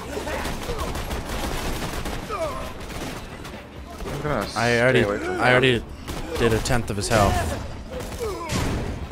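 Borderlands 2 gunfire in a sustained, loud burst of rapid shots under excited gameplay talk, with a voice cutting in over the shooting.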